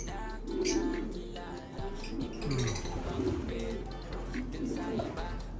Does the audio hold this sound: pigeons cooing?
yes